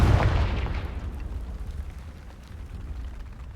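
A Confringo blasting spell explodes in Hogwarts Legacy: one loud, deep boom that erupts at once and then fades into a long, rumbling decay. No voices are heard.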